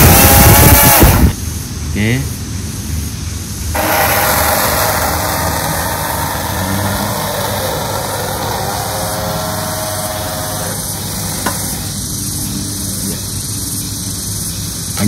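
Small electric motor of a Feiyue FY616 RC toy fast boat running at low speed, a steady close whir with a watery spray hiss, a person speaking briefly at the start.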